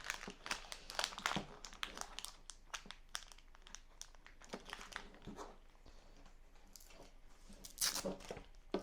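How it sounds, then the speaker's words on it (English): Plastic wrapping is peeled off a foldable 1800W LOVEPS hair dryer, giving close, quiet bursts of crinkling and rustling in irregular clusters with short pauses between. "Let me just take this plastic off."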